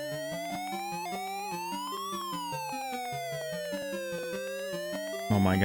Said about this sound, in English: Oh my god, that siren noise is so loud.